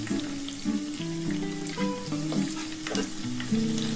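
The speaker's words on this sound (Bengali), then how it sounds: "এবার এই তেলের মধ্যে আমি আলুগুলো ছেড়ে দিলাম।" Potatoes sizzle and crackle in hot oil in a home kitchen, a continuous close frying hiss with stirring, while faint tonal background music runs underneath.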